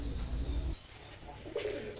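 Teddy pigeons give a short, low, throaty coo close by, then a soft, quiet stretch with faint rustling follows.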